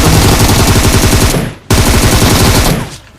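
Rapid automatic gunfire in a video game, loud bursts of shots running continuously for about a second and a half, a brief break, then another long burst, with no talk.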